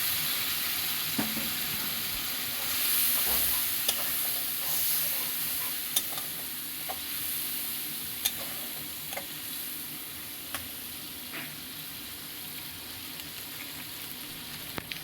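Katla fish with turmeric and a little water sizzling in a pan, a steady frying hiss punctuated by scattered clicks and scrapes of stirring, close and fairly quiet, with no talking.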